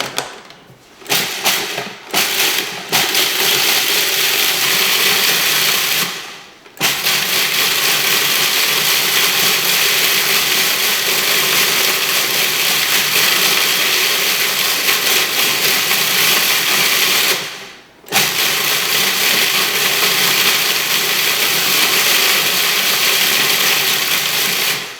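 A blender whirs loudly, chopping bigger pieces of smoked garlic, running in sustained bursts with a rattling grind, cut by brief stops early on and two short pauses before restarting.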